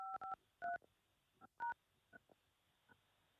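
A telephone keypad sends DTMF tones while a six-digit PIN is entered on a call-in studio line: a quick pair of beeps, a longer one, then a single tone, with faint clicks and a late soft beep against a quiet background.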